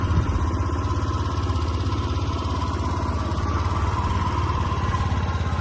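A Honda Gyro X fuel-injected scooter engine idles steadily with the hand brake on, a close, even putter with a light mechanical clatter that holds constant throughout.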